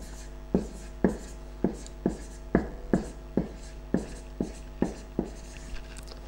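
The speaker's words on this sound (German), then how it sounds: "Schreibe ich jetzt mal hier hin." Hand writing on a board gives a regular series of sharp taps and scratchy strokes, about a dozen evenly spaced marks heard close and alone over a low steady hum.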